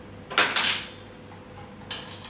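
A spoon clinks against a bowl while honey is added to dry ginger powder: two short bright clatters, the first longer and ringing, the second near the end, over a quiet background with no speech.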